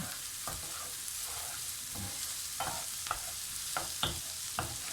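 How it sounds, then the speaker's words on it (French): Chopped onions fry in a pan over high heat for a lasagne, with a steady close sizzle broken by repeated scraping stirs of a utensil. "une fois que les oignons ont commencé à suer, comme c'est le cas actuellement"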